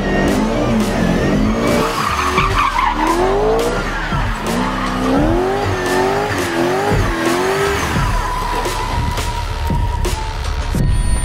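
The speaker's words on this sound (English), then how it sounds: "So now it's a time for a burnout." A drift car does a burnout: sustained, loud tire squeal with wavering pitch over a steady roaring engine, continuous throughout with no talk.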